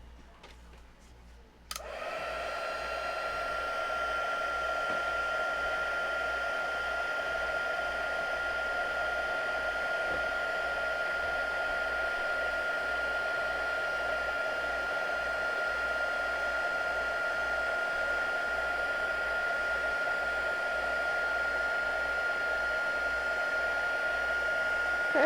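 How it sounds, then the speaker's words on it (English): After a short quiet moment, a heat embossing tool switches on and blows hot air over a card, a steady, close, hissing drone that runs unbroken to the end. "Bring the heat tool in."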